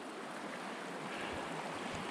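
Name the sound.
White Rocks River flowing below the dam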